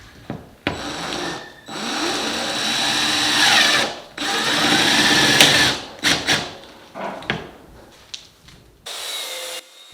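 A power driver runs trim head screws into rustic barn beam trim on a wood beam installation, with several long bursts of whirring motor and grinding wood broken by short pauses, close and loud, with no talk.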